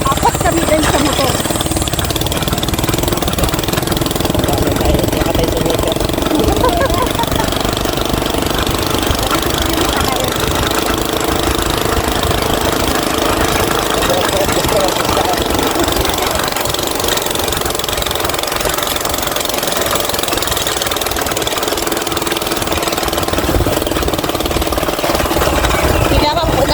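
A steady motorcycle engine, carrying four riders, drones throughout at close range, loud and continuous, with a rough mid-pitched rumble.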